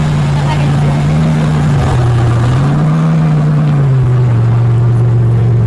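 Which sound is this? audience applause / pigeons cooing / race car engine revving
race car engine revving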